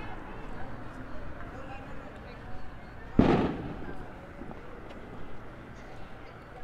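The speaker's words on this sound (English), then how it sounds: "there's like a festival going on here, so that's all the fireworks sounds you hear." A single loud firework bang bursts out mid-clip during a village festival in Zinacantan, Mexico, standing sharply above a steady murmur of outdoor background noise.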